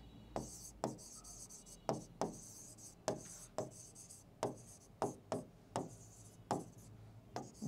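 A pen writes on paper in a string of short, quiet strokes, scratching in a steady, uneven rhythm, close to the listener with no talk over it.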